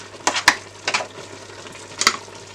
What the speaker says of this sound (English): I'm just going to add some chopped onions and a Scotch bonnet pepper